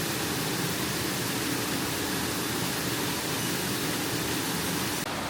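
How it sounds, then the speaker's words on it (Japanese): The Anataki waterfall near Otaru, Hokkaido, a cave-like mystical falls on a muddy mountain trail, pours as a steady, loud broadband rush of falling water, unbroken and alone for the whole stretch. "こんな感じのすごく神秘的な滝でした。"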